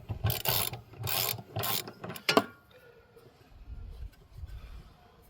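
A 27mm spinner socket loosens the anode rod of a caravan hot water system, giving three bursts of close ratcheting, scraping metal and a sharp clack before a quiet, rumbling stretch.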